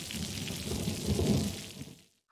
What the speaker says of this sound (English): What causes rain?